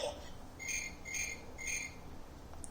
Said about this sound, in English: The cricket hops and chirps.